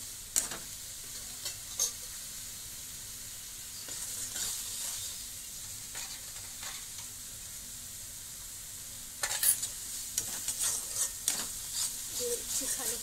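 Chicken bora curry, seasoned with turmeric and salt, is stirred in a sizzling pan: a soft continuous fry under intermittent spoon scrapes that grow busier toward the end.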